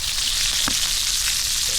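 A steak sizzles over a very hot open fire, giving a steady, loud, close-up hiss that runs unbroken for the whole moment with no voices over it.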